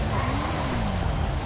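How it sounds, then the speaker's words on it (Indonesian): Rain falling in the video game GTA 5 during a street motorcycle race: a steady, dense hiss of rainfall with a low rumbling engine drone underneath, continuous and fairly loud. "Mumpung lagi hujan nih."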